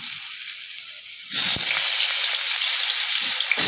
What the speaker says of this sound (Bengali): তেল গরম হয়ে গেছে, আমি আগে আলুটা ভেজে রাখবো।